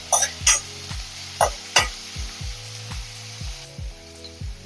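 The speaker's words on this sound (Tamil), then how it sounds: "வெங்காயத்தை பொடியாக கட் பண்ணி வச்சுருக்கேன் அதை போட்டாச்சு இப்போ நல்லா வதக்கிக்கலாம்" Finely chopped onion sautés in a pan, giving a close, continuous sizzle. Repeated stirring scrapes and spoon knocks come at a fairly regular rhythm, with no talking.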